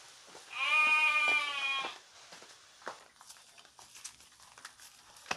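Sheep bleat loudly in a pen, one drawn-out, wavering call up close followed by quieter rustling and scattered faint movement.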